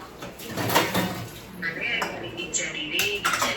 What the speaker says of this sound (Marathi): आता पडापडा भांडी घासते गं